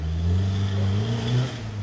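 A white Mitsubishi Pajero's engine strains and revs while climbing an axle-crossing off-road obstacle, a loud, close, steady drone with rising pitch, alone without talk.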